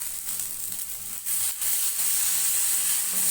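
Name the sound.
ginger halwa being roasted in a pan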